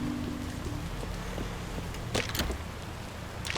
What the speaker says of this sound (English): this rain is making me soak